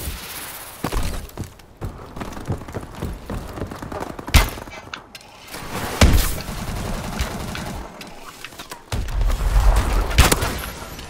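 Gunfire in the video game Call of Duty: Advanced Warfare, with loud repeated shots, thumps and impacts in a dense, chaotic battle mix throughout.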